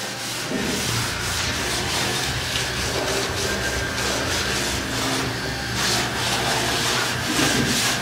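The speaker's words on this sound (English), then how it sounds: "You're going to scrub all the film clean." Steady scrubbing and rubbing of acid-washed car metal on a 1954 Buick Roadmaster, clearing off the film, as a continuous close abrasive sound with slight surges and no speech.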